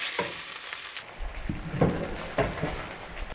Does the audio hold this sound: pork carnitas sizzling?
yes